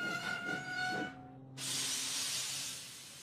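A steam locomotive's brakes release a sudden loud burst of hissing steam after a faint whistle-like tone, the hiss then fading slowly.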